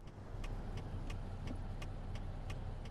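The engine of a Peterbilt 389 truck in American Truck Simulator hums low and steady as it creeps slowly out of a yard, with a faint regular ticking over the drone and no talk.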